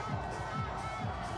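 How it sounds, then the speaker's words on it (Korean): Tottenham fans at a street bus parade in London cheer and shout as one large crowd, a soft, distant roar that rises and falls in rhythmic chant-like pulses. "15만 명의 토트넘 팬이 우승컵을 보기 위해 거리로 쏟아져 나왔습니다."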